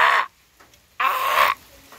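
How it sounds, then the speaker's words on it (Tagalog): Several crows caw loudly outdoors at an open rural location in two harsh bursts, a longer run of calls following a quiet gap, with no talk over them. "Ay, ang daming uwak."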